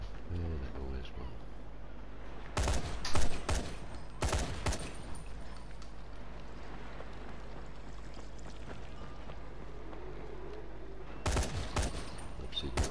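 Military rifle fire in the zombie game Dying Light, with several short bursts of loud shots spread through the clip over a steady low background rumble.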